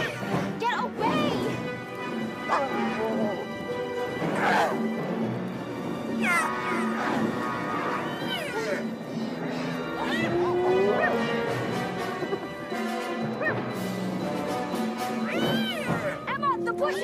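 Hyenas attack in the video game Against the Wild 2 Serengeti, with loud, wavering animal cries and yelps layered over dense, continuous game noise and vocal shouting.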